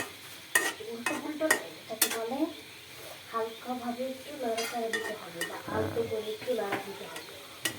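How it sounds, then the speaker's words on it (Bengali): Tomato chutney fries and sizzles in a pan as a utensil stirs it with soft scraping strokes, while a person talks over the cooking throughout. "আলতো ভাবে একটু লাড়াচাড়া দিতে হবে, খারাপ হবে না"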